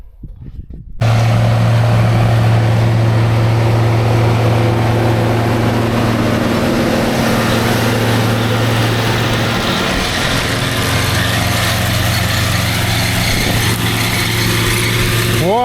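A 1995 Case IH Magnum 7210 tractor drives with a loud, close, steady diesel drone and deep tonal hum, starting abruptly after a short quiet moment and running continuously.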